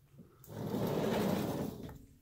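A drawer on a Safco metal storage cabinet holding graded comic books slides open with a rough, scraping rumble lasting about a second, close by and with no talking.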